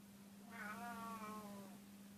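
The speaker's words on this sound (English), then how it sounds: "the cat wants to go out" A cat meowing to be let out: a single drawn-out, wavering meow, fairly faint and alone over a steady low hum in a quiet room.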